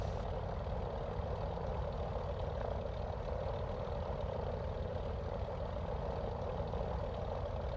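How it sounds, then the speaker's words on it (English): Steady low drone of the AzurPoly TB-30 Epsilon's single piston engine idling in Microsoft Flight Simulator 2024, a continuous even hum with no voices. "throttle to idle, and check that the engine doesn't quit on us."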